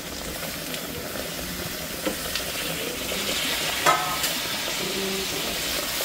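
Tomatoes go into sizzling masala for palak chicken and are stirred: a continuous close hiss of frying with steam and occasional soft scrapes of the spoon, and no voices.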